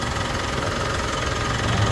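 A Mitsubishi Strada Triton engine idles just after an oil change, a loud, close, steady mechanical rumble with a slightly knocking, vibrating texture and no talk.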